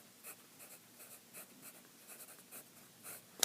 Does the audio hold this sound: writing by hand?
yes